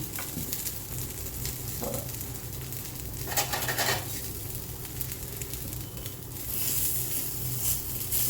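Potato sabudana appe sizzle softly in an appe pan while they are flipped, with a steady low crackle of frying broken by a few brief scraping and tapping sounds close by.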